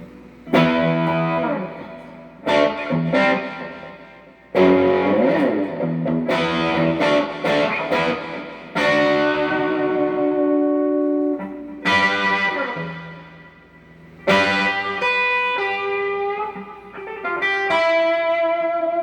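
Distorted electric guitar, a Les Paul with crunchy overdriven tone, strummed chords ringing out in bursts with brief pauses, close and fairly loud.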